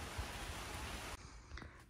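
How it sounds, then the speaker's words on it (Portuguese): Steady rain falls on a rural farm, a dense close hiss that cuts off abruptly partway through, leaving faint drips and quieter ambience. "Chuva, glória a Deus por isso."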